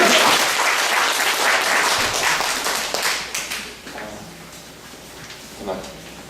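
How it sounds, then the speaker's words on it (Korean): Church congregation applauding the choir during a Sunday worship service, a dense, loud burst of clapping that thins out and fades after about four seconds, with scattered voices and a few late claps. "박수 한번 더 쳐주시겠어요?"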